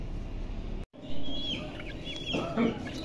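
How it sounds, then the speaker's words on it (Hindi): Chickens cluck softly near a cage, a few short, faint calls over low background noise after a brief dropout. "ये मुर्गियाँ वगैरह खा लेंगी।"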